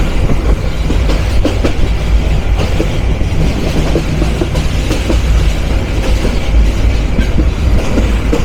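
The Tista Express intercity train from Dhaka rolls through rural Gazipur, a loud, continuous on-board rumble with rhythmic clickety-clack of wheels on rail joints and a faint squeal, no voices.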